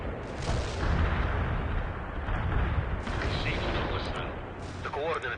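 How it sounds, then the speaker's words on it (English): Heavy mortar and artillery fire in the video game World in Conflict, a dense continuous rumble of blasts and booming impacts, loud and sustained with brief radio chatter layered over the barrage. "Mortar missed."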